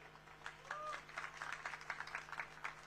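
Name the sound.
audience clapping at a political rally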